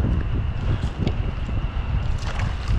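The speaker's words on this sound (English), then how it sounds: "Oh my gosh, the biggest gust of wind of the night." Strong night wind gusting by the water during trout fishing buffets the microphone with loud, close, continuous rumbling and irregular low surges, accompanied by faint splashing and rustle and no talking.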